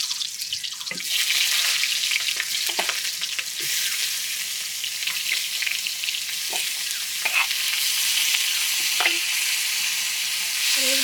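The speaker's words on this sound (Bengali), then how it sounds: "এই সিদ্ধ করা ইঁচড় ভেজে নেব। তেলটা গরম হয়ে গেছে, এখন আমরা এর ভিতরে ইঁচড়গুলো দিয়ে দেবো" Boiled green jackfruit, already cooked with salt and turmeric, crackles and sizzles in hot oil, a dense close frying hiss with intermittent clinks and scrapes of a spatula stirring the pan.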